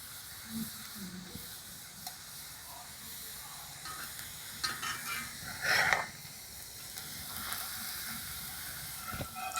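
Oil hisses and sizzles softly as kathi gaja dough sticks fry in a frying pan, with a brief louder crackle midway and faint clinks in the background.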